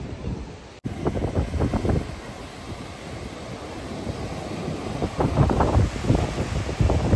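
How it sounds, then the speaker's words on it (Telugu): Ocean waves wash onto a beach in Goa in a steady broadband rush, with heavy wind buffeting the microphone and a stronger surge near the end; no one speaks. "అలలు చూసారు కదా ఎట్లా వస్తున్నాయో"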